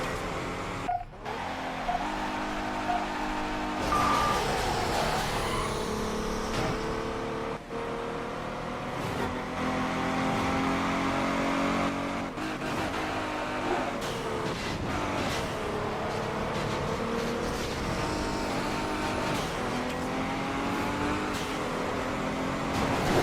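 A Chrysler races through Detroit streets in Midnight Club 3: DUB Edition Remix, its engine roaring steadily and close, with repeated rev climbs, gear-shift dips, and brief thuds and skids along the way.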